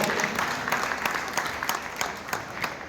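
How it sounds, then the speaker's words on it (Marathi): Applause at a rangoli art gathering in Baramati, Maharashtra: a steady wash of clapping from a crowd, fairly even in level with a few sharper bursts, no talk over it. "पण टाळ्या अजून एकदा जोरात झाल्या पाहिजे"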